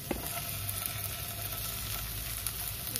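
Potatoes and pointed gourd fry in a pan for oats upma, giving a steady, dense sizzle that is close and continuous, with no voices.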